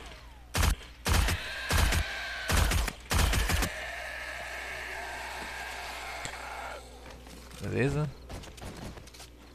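Five heavy gunshots ring out in 7 Days to Die, loud, evenly spaced blasts close by, followed by quieter game ambience, a short spoken word and a muffled thump near the end.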